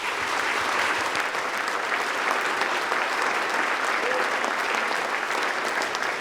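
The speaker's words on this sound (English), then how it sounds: "Let's give yourselves a big round of applause." Sustained, dense applause from a large audience at the Pro Football Hall of Fame Awards of Excellence show, loud and steady throughout with no break.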